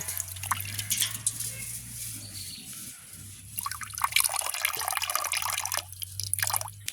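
Urad dal (black gram) is washed by hand in water in a village setting, with splashing, dripping and trickling sounds coming in bursts alongside a low steady hum.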